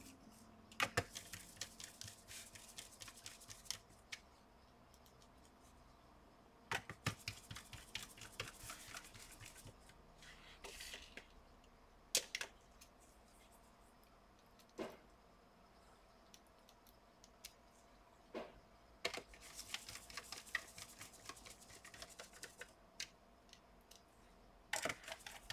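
Screws go back into the underside of an HP OMEN 17 laptop, heard as sparse, faint, close clicks and small ticking taps scattered across a quiet background, with occasional clusters of rattling contacts.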